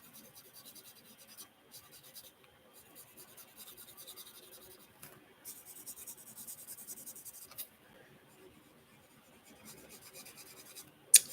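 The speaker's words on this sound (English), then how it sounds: "we're going to go and ink this one like I did before with the alcohol-based marker" Alcohol-based marker inking a magazine glue book page, producing soft, steady scratchy strokes of close, quiet rubbing in short bursts with brief pauses, ending with a small tap.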